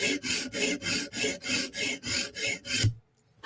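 A Bestech Tanto knife blade is drawn across a sharpening stone to take off the burr, giving about eight steady, evenly spaced rasping strokes close up, then stopping into near silence.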